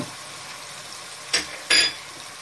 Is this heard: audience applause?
no